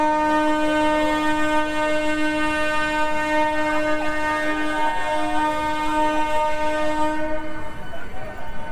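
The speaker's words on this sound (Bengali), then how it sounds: "এই কিন্তু গাড়ি ছেড়ে দিল কৃষ্ণনগরের উদ্দেশ্যে।" A new MEMU local train departs for Krishnanagar on its inaugural run. Its loud, sustained horn blares steadily for about seven seconds at close range, then cuts off as the carriages rumble on.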